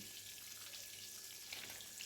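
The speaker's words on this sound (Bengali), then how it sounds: "ওই তেলের মধ্যে দিয়ে দিলাম পাঁচ ফোড়ন" Panch phoron spices sizzle in hot oil that has just been used to fry cauliflower, a quiet, even hiss running the whole short moment.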